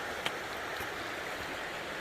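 A river flows beside a hiking trail on the Foothills Trail in South Carolina and North Carolina, a steady broadband rush of moving water that is close and continuous, with no voices.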